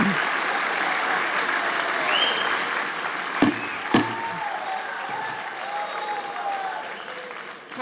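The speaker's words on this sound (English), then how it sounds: "Why are they clapping for that? Why would you be clapping?" Sustained applause from an audience during the reading of the electoral vote count in a formal chamber, steady clapping throughout with a couple of sharp knocks partway through.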